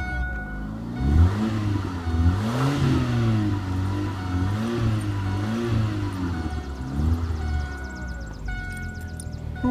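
A 2001 Ford Focus with a 2.0 SOHC engine and about 117,000 miles, revved repeatedly in rising and falling sweeps at close range, with music playing faintly in the background.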